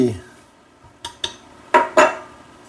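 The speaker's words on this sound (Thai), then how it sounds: "พริกไทย โขลกให้ละเอียดครับ" Coriander root, garlic and black pepper being pounded in a mortar: four sharp, separate knocks, the last two loudest, with near silence between them.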